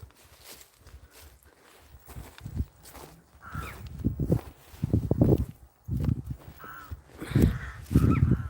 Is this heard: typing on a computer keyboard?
no